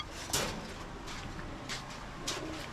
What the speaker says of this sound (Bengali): এরপরে আছে সিলভার সিরাজি এটা হচ্ছে সিঙ্গেল মাদি কবুতর